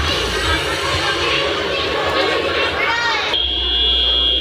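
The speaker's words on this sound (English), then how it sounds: "After the buzzer sounds, they score the other truck" A crowd chatters loudly at a FIRST LEGO League scrimmage, then an electronic buzzer marking the end of the match cuts in and holds a steady, piercing tone to the end.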